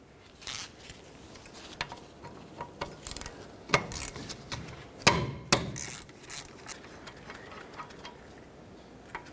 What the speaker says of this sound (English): Now the next thing we're gonna do is remove our caliper mounting bolts.